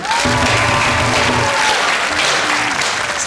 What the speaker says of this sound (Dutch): Applaus voor Maxime!